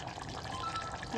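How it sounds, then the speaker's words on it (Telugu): Half a glass of water poured into a pot of Bhimavaram-style mutton curry, a steady close-up splash and trickle lasting the whole moment and rising slightly at the end. "ఒక అర గ్లాసు వాటర్ పోస్తున్నాను"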